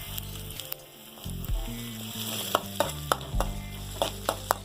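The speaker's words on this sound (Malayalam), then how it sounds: "കരിഞ്ഞു പോകാതെ നന്നായിട്ട് ഇളക്കുക" Masala with curry leaves for a Kottayam-style pearl spot fish curry sizzles in a pan under steady stirring, with sharp scraping clicks of the spoon recurring every half second or so.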